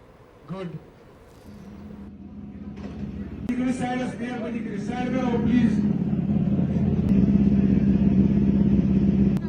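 Race cars at a 1.7 km street car racing event in Kashmir, engines rumbling and building steadily louder under crowd noise and someone talking, with an early brief knock.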